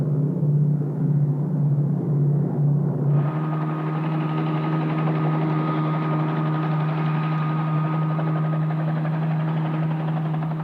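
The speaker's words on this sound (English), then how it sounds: "In our helicopter, we will photograph the spectacle from the air, as Philippe and a team of divers" A helicopter in flight over clear tropical waters off the Yucatan gives a steady, loud rotor and engine drone, unbroken throughout with a constant low hum.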